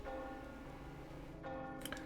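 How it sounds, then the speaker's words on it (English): Bells ringing in a dark, dramatic scene, a sustained metallic ring with steady overtones holding throughout, brighter chime-like strikes near the end. "The bells rang louder and more fiercely"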